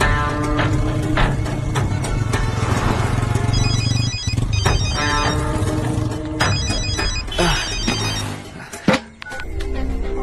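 A phone ringtone rings loudly and continuously through a tense crime-thriller scene, its repeated electronic chime pattern sounding over a dense, busy musical background with no talk.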